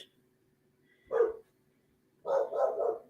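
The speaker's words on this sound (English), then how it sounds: "And there goes the dog." A dog barks nearby in an indoor setting, one short bark followed after a pause by a quick burst of two or three more, with near silence in between.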